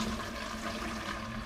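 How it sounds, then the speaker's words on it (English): Water carrying silver flakes pours steadily into a big bucket, a continuous rushing splash that stays even and fairly faint throughout, no talk. "I'll pour it into this big bucket"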